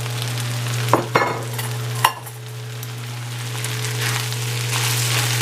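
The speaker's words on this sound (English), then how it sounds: "Go ahead and add my eggs to that." Eggs hit a hot pan of chicken fried rice made with basmati rice, giving a steady sizzle with a few sharp clanks of stirring near the start, close and alone.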